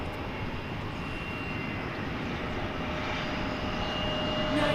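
An airplane at DFW Airport at daybreak, a steady, fairly distant engine roar that holds constant and grows slightly louder toward the end, heard alone without talk.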